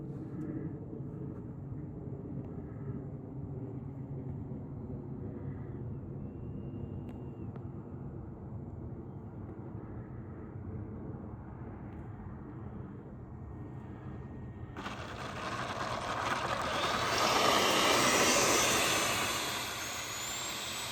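An XFLY F-35 70mm EDF RC jet with a Viper 70 power system comes in to land, a steady ducted-fan whine rising into a loud, close roar near the end before easing off.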